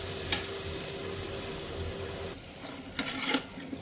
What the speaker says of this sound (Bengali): তো আমি একটু চালটা ভালোভাবে নেড়ে নিই